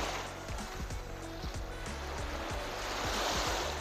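Ocean surf breaks on a beach at night, a steady rushing wash of waves with low rumbling pulses and some wind noise in the microphone.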